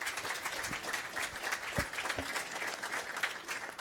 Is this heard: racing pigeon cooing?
no